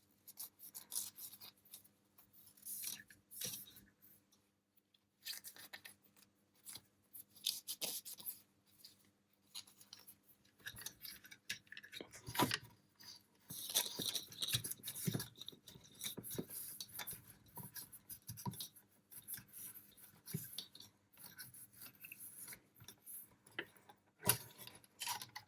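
A Macintosh Classic's CRT high-voltage anode cap gets wiped clean, making faint, close rubbing, scratching and light tapping in irregular bursts with pauses between, no speech.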